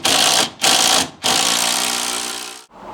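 A power driver drives screws into a wooden stair stringer from the back while framing raked stairs, loud whirring bursts separated by brief pauses, the last burst running longer before winding down.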